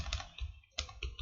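Quick bursts of keystrokes on a computer keyboard while entering a comment into MATLAB code, close and moderately quiet, with a short pause midway before the clicking resumes.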